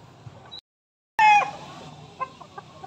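An Allen Gray gamefowl rooster gives a sharp, loud cluck after a brief silence, followed by a few softer clucks and small rustles close by.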